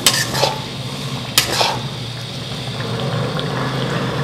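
Broth poured into beef kadai in a cooking pan, a steady sizzling hiss with a couple of clanking pan or spoon knocks at the start, close up and no talking.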